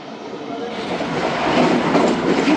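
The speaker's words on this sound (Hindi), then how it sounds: "आधा घंटा लेट रनिंग कर रही है ट्रेन हमारी।" Khyber Mail passenger train rolling along the rails, a steady close rumble with faint clickety-clack of wheels that swells slightly louder toward the end, no voices.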